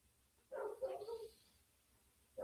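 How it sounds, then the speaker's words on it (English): A pet dog barks indoors, giving a short burst of a few quick, mid-pitched barks at moderate distance, then a pause before another sharp bark starts at the end. "My dog's barking."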